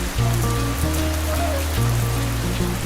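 A cartoon rain sound effect: a steady, close hiss of rain falling on a surface that runs throughout under sustained low background tones.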